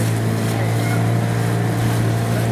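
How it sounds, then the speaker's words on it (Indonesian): A motorboat named Harmonis speeds through water near Pacitan, a steady loud engine drone with constant rushing spray and wash, close and continuous throughout. "Ini efek air dari kecepatan kapal Harmonis"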